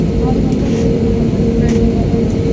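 An airplane takes off at an airport in Udaipur, a loud, steady, low engine roar that holds evenly throughout.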